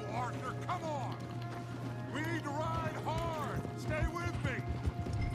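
Horses gallop toward the player in Red Dead Redemption 2 with rhythmic hoof clip-clops and occasional whinnies, while a person talks excitedly over them.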